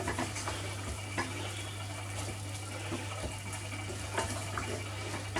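Minced meat for a cottage pie fries in a pan with a continuous hiss. Intermittent scraping and stirring sounds run over it, with a low steady hum underneath and no voices.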